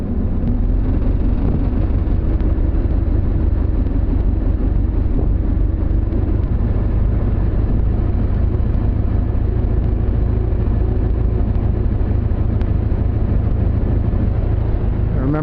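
A Ford Model T engine being broken in, with only minutes of runtime on it, runs at a steady, dense low rumble, loud and close, unchanging throughout with no talking.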